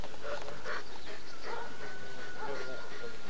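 A dog about five years and five months old whimpers and yips in short, high bursts, close and fairly loud, over a steady noisy background.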